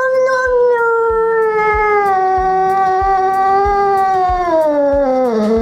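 A cat yowls in a long, rising and falling caterwaul at a veterinary clinic in Nizhny Novgorod region, loud and close, with a faint regular tapping underneath.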